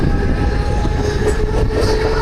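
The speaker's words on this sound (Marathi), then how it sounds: "फायनली आपली ट्रेन वडाला डिपार्चर करत आहे." A Mumbai local train departing Wadala station makes a loud, close, continuous rumble with a steady low roar and faint rhythmic wheel clatter, with no voices.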